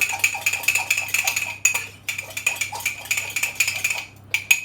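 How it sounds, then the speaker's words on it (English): Quick, rhythmic clinking of a fork beating an egg in a cup, a fast ticking patter with a couple of brief pauses. "loosely beat it, sorry about the noise, with a fork."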